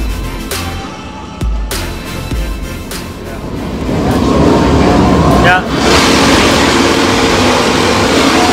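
World Superbike motorcycles on the grid at the Mandalika circuit in Lombok, engines rumbling at a distance and then swelling into a loud, continuous roar as the bikes rev and pull away.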